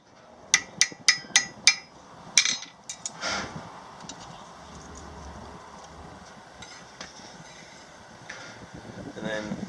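A hammer forging a small steel leaf keychain rings out in five quick sharp strikes, then a pause and a few more scattered blows, close and loud, followed by quieter shop noise.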